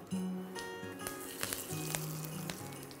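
Curry leaves crackle and sizzle steadily in hot oil with fennel seeds and cumin while tempering, a close, continuous frying hiss with faint clinks of a pan.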